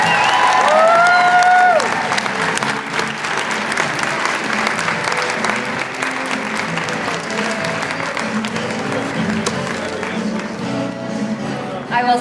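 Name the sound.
audience applause at awards event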